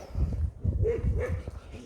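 A collie barks a few times in short bursts on a night walk, fairly close and moderately loud. A whimpering, whining tone runs between the barks.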